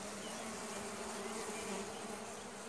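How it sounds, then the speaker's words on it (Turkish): Honeybees in a weak hive, disturbed by formic acid dripped in against varroa mites and wax moths, give off a dense, continuous buzzing hum that stays steady and close throughout. "Arılar formik asitten rahatsız oldukça"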